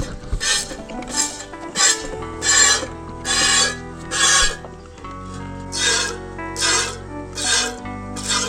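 Milk squirts rhythmically into a stainless steel bucket as a dairy goat is milked by hand. Each stroke gives a close, hissing spray, about ten in a steady rhythm, and nobody talks.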